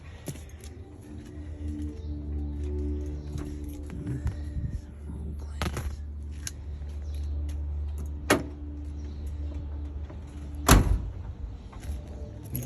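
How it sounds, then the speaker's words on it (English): Car doors being shut one after another, a few solid thumps spaced across a steady low engine-like rumble, with a sharper, louder slam near the end. "The doors all shut pretty well."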